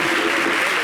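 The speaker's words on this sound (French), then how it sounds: "ça s'applaudit" A brief burst of dense applause from many hands, loud and continuous for under a second.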